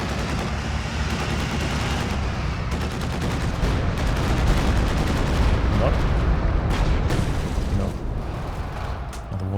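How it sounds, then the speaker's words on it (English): Stuka barrage in Company of Heroes 2, a dense, continuous roar of explosions and rumbling blasts, loud throughout, with a commentator talking over it. "Stuka barrage."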